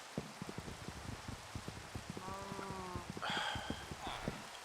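Rain falls in the Minecraft video game as a soft, steady hiss, joined by light rhythmic clicking steps and a couple of brief tonal game sounds.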